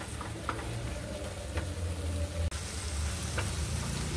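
Tomato spice paste frying in oil for Bengali tel koi, a low continuous sizzle close by with a few light scrapes and one sharp click midway, no voices.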